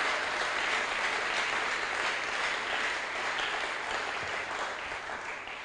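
A church congregation applauds for several seconds during a service, steady broad clapping that fills the room and fades slightly toward the end.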